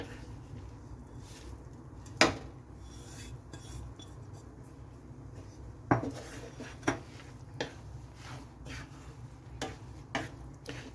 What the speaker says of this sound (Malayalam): കുറേശ്ശെയായി ചേർത്ത് കൊടുത്ത് നമ്മൾ ഇളക്കി കൊടുക്കണം.